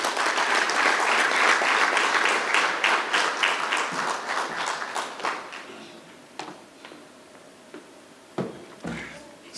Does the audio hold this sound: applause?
yes